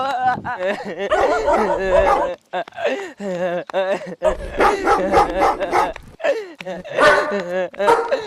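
A dog barks and yelps repeatedly at close range, its calls running almost continuously with whining, voice-like tones and only brief pauses.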